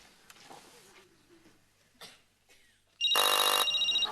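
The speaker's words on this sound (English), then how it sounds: "I'll call Father Larry Duff." A loud telephone bell rings out in a domestic sitcom scene, its sharp, sustained ringing bursting in suddenly after a stretch of quiet, faint voices and small movements.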